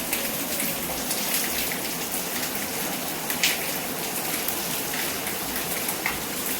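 Steady rain pattering down across a surface, a dense continuous hiss with scattered droplet taps, no voices.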